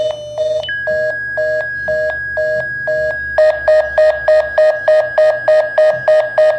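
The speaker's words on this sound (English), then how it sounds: "VoIP noises." A NetComm Roadster V.92 modem makes dial-up noises: electronic beeps repeat in a steady pattern, first slower pulses and then a faster run of two-tone bleeps, loud and close like a line signal.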